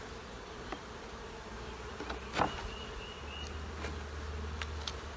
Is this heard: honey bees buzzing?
yes